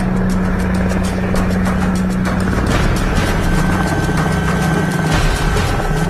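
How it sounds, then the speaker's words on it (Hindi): Cheetah helicopter taking off in the Siachen high-altitude area, a loud continuous rotor and turbine roar with steady low thumping and a sustained whine, close and constant throughout. "चीता हेलीकॉप्टर एक बार फिर उड़ान भरता है।"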